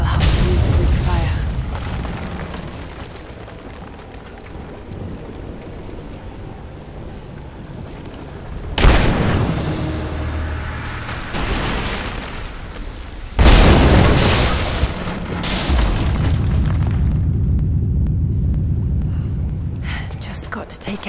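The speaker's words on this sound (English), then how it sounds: "Looks like I'll have to use the Greek fire." Greek fire explosion in Rise of the Tomb Raider: two sharp, loud booming blasts a few seconds apart, each followed by rumbling debris, over a low background of game ambience and occasional speech.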